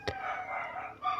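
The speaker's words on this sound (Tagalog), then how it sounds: "Rhode Island Red o Rhode Island Black yata yun kasi kulay itim." A Rhode Island Red or Rhode Island Black rooster, dark-feathered, crows in one close, loud call lasting about a second, with no talk over it.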